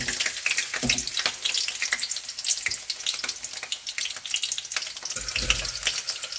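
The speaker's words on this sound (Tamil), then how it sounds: "அந்த பூண்டு பொரியட்டும்னு அதுக்கப்புறம் அதில் வெங்காயம் போட்டுக்கலாம்" Garlic for chicken fry sizzles and crackles steadily in hot oil in a pan, a dense continuous fry with a few soft knocks of a utensil, close and fairly loud with no talking.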